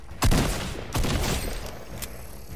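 Gunfire in a shooter video game, two or three punchy shots over a steady noisy game soundscape, with no one talking.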